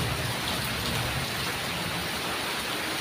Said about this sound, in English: Outside is heavy, heavy rain.